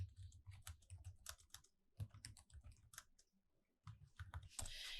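Fast, irregular keystrokes clatter on a computer keyboard in bursts with brief pauses, close and fairly quiet, with no voices.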